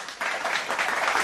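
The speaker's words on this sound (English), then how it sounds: "A round of applause here." Short burst of applause from a baseball stadium crowd, steady clapping at moderate distance, fairly quiet.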